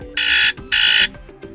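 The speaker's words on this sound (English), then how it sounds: "like buzzer." A DOOGEE X97 Pro phone plays its buzzer alarm tone: two loud electronic buzzing pulses, each roughly a third of a second, separated by a short gap, heard up close and clear.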